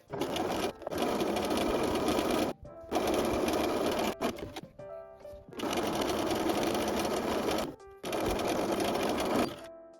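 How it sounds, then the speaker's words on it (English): Sewing machine stitching the top and bottom edges of a tote bag pocket, running in four long bursts separated by short pauses, close and loud with no talking. "Sew the top and bottom edges with a 1 cm seam allowance."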